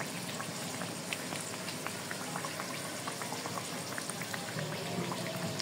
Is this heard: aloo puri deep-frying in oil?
yes